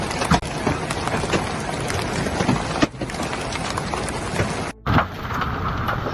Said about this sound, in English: Large hailstones and heavy rain affected driving conditions in Fujara, Khorfakkan and Kalba.